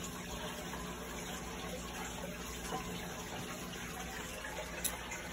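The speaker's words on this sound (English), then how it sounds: "Gotta go wash my hands because it's dirty." Tap water runs steadily into a sink as hands are washed after a bloodworm feeding, a constant, even gush heard alone with no talking.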